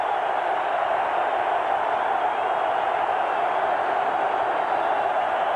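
Crowd at the closed end of Soldier Field during a 1991 NFL Monday night football game, a steady loud roar from spectators packed tight around the field, unbroken throughout.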